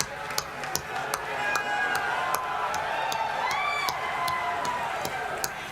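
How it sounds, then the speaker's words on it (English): A crowd at the PlayStation Experience 2016 event claps in scattered sharp beats amid a busy murmur of voices and cheering, with talk running underneath. "That clapping sound."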